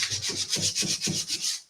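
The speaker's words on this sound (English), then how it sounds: "I'm doing scuff sanding, I go straight to the 180, so that's the last grit before refinishing." Scuff sanding a piece of vintage wood furniture by hand with 180-grit sandpaper before refinishing: close, steady rhythmic rasping strokes, about seven back-and-forth passes in under two seconds, with no voices.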